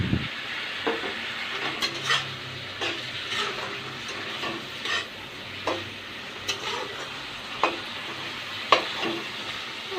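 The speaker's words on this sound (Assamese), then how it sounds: "এতিয়া মই আলুখিনি দি দিম" Potatoes frying in a pan on a home stove, sizzling steadily with occasional stirring scrapes and ticks over a constant hiss, close and alone with no voices.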